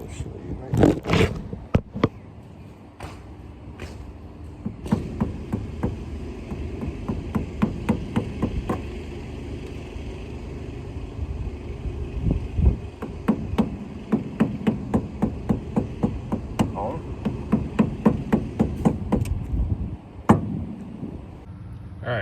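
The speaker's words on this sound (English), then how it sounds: "you're just gonna hammer it at the top right here" A hammer strikes a flathead screwdriver wedged against the strut of a 1983 third-generation Firebird. The blows are loud and close, coming in rapid rhythmic bursts of sharp metallic impacts with brief pauses between runs.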